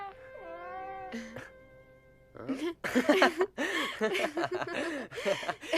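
A cat lets out a drawn-out wavering meow, then a shorter one, followed by excited, overlapping voices talking close by.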